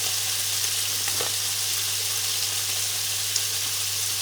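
Meatballs frying in a hot pan for a traybake, a constant dense sizzle with a steady low hum beneath and no talking.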